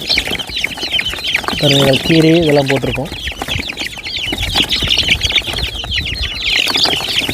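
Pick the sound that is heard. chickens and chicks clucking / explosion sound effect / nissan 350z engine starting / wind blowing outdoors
chickens and chicks clucking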